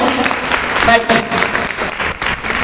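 An audience at a temple kumbhabhishekam event claps together in a dense, sustained round of applause, close and loud for the whole stretch, with a voice mixed in.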